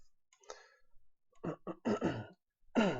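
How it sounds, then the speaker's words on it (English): Several short, rough throat-clearing bursts close to the mic, separated by quiet pauses. "I'm really sorry for clearing my throat on the mic"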